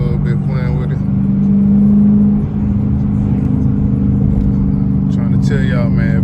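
Loud, steady straight-pipe exhaust drone from a car cruising in fourth gear with light throttle, a brief swell near the middle, close and continuous.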